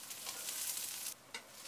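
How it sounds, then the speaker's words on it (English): Aubergines fry on high heat in a pot, a steady loud sizzle broken by scraping stirs, with a brief dip before the frying surges again. "Then add the aubergines to the pot and fry on high heat"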